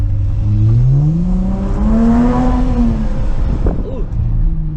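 Dodge Charger GT AWD V6 with a rear muffler delete accelerating in sport mode, a loud rising engine drone that climbs steadily in pitch, then eases off near the end.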